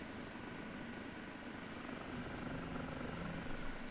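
An OH-58D Kiowa Warrior helicopter lifts off in the DCS flight simulator game, giving a steady, dense rotor and engine drone at an even, fairly loud level with no talking.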